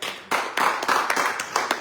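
Church congregation clapping in bursts during a sermon, several sharp rounds of hand claps close and fairly loud, irregular and overlapping.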